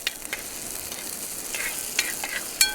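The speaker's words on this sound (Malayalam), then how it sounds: "അപ്പോൾ നമ്മൾ എണ്ണ ചൂടായിട്ടുണ്ട്. അത് ചുവന്നുള്ളി അത് ആഡ് ചെയ്യാണ്." Shallots fry in hot coconut oil, giving a faint, even sizzle punctuated by light scraping and clicking stirs.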